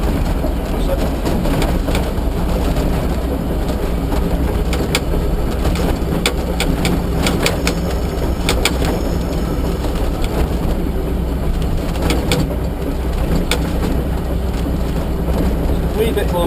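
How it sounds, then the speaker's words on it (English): Manx Electric Railway tram running between Laxey and Douglas on the Isle of Man, with a steady loud rumble of wheels and motor and a continuous hiss of air being released from the brakes. "Let the air go now."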